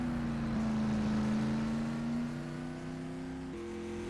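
A race car runs on the track at Madera Speedway during time trials, its engine droning steadily at a distance with a sustained tone that rises slowly, then shifts gear and settles lower.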